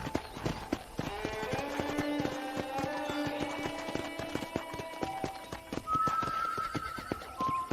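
A horse in Red Dead Redemption whinnies loudly with a long, wavering neigh while hooves clip-clop steadily beneath it, followed by a few short synthetic tones.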